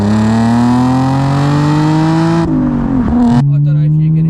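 Audi S4 fitted with a modified loud exhaust accelerating, a loud close engine drone climbing steadily in pitch before dropping back at a gear change and settling again.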